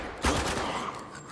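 Gunfire in the video game Spec Ops: The Line, a single heavy close shot followed by a dense wash of continuous battle noise.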